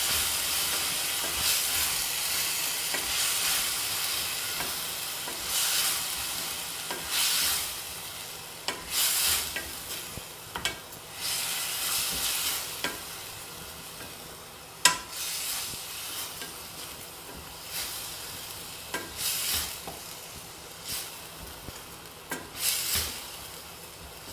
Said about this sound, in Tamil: இதையும் பச்சை வாசனை போகிற வரைக்கும் வதக்கிக்கணும்.